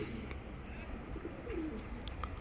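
Tumbler pigeons, kept as play birds, coo softly in a brief low call near the middle, faint against steady background noise with a few light chirps.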